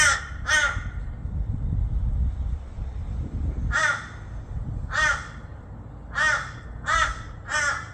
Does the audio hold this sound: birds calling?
yes